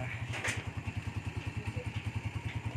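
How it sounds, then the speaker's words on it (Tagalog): A motorcycle engine idles close by with a steady, loping thump that pulses evenly, several beats each second, under faint background noise. "Yan yung motor namin."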